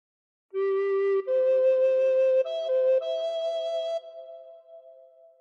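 A recorder plays a short phrase of Amazing Grace, a few clear held notes stepping upward, each tongued separately, close and alone, the last one fading out.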